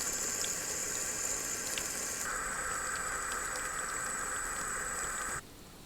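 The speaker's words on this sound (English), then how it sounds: "I might just hose down the greenhouse to see how it works" A garden hose sprays water onto a greenhouse in a steady, hissing gush that shifts slightly partway through before cutting off abruptly, fairly faint, with no talk.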